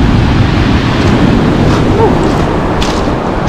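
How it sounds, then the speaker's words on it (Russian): Sea surf rolls and splashes continuously onto Flamingo beach at Lazarevskoye near Sochi in December, a loud, dense wash of waves with wind buffeting the microphone. "Мы с вами просто посмотрим на волны, на брызги."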